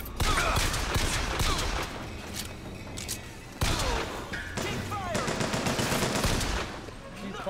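Sustained automatic gunfire and impacts rattle through a Bioshock Infinite firefight, dense and loud throughout with a sharp fresh burst midway, mixed with game effects and occasional voices.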